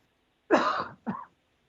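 Two short throaty bursts close by, a longer rough one followed by a brief second, like a cough or throat clearing in a quiet room.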